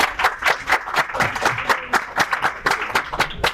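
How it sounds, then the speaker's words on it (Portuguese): Audience applause for Joana at an insurance-sector assembly: a fairly sparse crowd clapping, individual sharp hand claps clearly distinct in a steady, uneven patter, close and moderately loud for a few seconds. "Palmas para a Joana, por favor."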